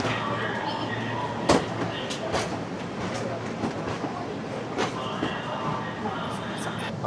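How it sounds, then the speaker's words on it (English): A local train on a Japanese line pulls into a station with a steady rumble and hiss, punctuated by a few clacks and brake squeals, heard close and continuous. "Oh, the train is here."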